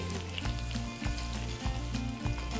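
Aromatics stir-fry in a hot pan with a busy sizzle over a steady low mechanical hum. Regular scraping strokes recur roughly every half second.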